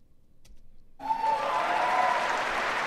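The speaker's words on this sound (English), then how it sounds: "You clap for nonsense like that because you're told to clap." Audience applause at a talk on federal government policy, breaking out suddenly after a second of near silence and holding as steady, dense clapping to the end.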